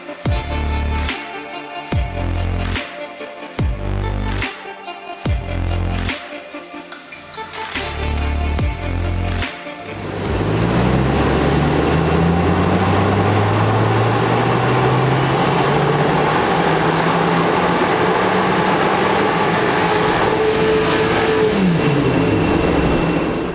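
Stage 1 remapped VW Polo GTI 2.0 TSI on a dyno: a series of short, sharp revs with gaps between, then a long continuous full-throttle pull climbing steadily through the gears, loud and close throughout.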